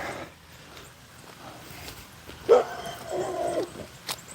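Neighbours' dogs bark outdoors in the morning, with one short loud burst in the middle and a few softer yips and whimpers after it, heard from a moderate distance over quiet street noise.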